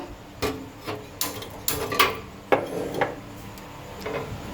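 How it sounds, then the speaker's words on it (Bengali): Metal griddle pan (chatu) set down on a gas stove in a home kitchen while making lachha paratha, giving several sharp clanks and knocks of metal on the burner grate, close and fairly loud, with no talking. "চাটুটা চাপিয়ে দেবো গ্যাসের মধ্যে।"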